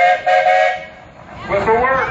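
A loud steam traction engine whistle blows in a sustained tone, fades briefly, then sounds again with a wavering pitch, at a steam power show.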